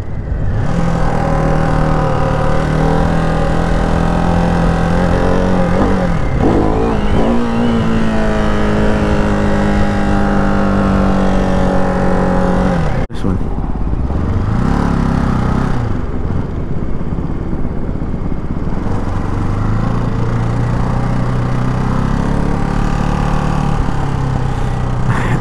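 A Ducati Hypermotard 698 Mono RVE single-cylinder motorcycle revs hard during wheelies, its engine rising and falling in pitch through repeated throttle pulls, loud and continuous over wind noise for about twenty-five seconds.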